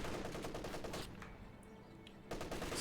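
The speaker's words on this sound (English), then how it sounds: "Machine gun firing in on the penal battalions." A machine gun fires in a war strategy game, a dense sustained burst that drops away briefly and then resumes, heard alone with no talk.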